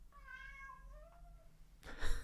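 A single cat meows once, a clear drawn-out cry nearby, followed by a brief rustling thump.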